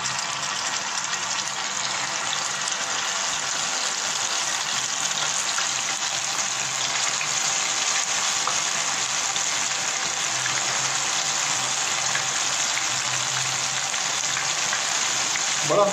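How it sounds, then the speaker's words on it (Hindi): Chicken shashlik sticks fry in hot oil, making a dense, constant, rain-like crackle and hiss that holds evenly and loudly throughout with no pauses. "अब इसमें मैं स्टिक्स को फ्राई के लिए डाल दूंगा।"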